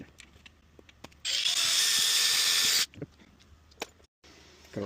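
A power drill bores a hole during a custom boombox speaker build, a loud steady whine lasting about a second and a half, framed by small handling clicks and knocks before and after.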